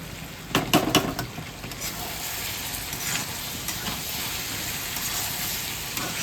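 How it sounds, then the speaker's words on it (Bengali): Faint sizzling and hissing of a curry in a pan being stirred after coriander leaves go in, with a few soft scraping clatters near the start and a steady gentle hiss after. "ধনেপাতা দিয়ে একটু নাড়িয়ে নামিয়ে নেব।"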